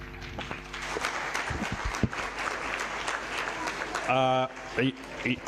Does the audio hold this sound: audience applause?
yes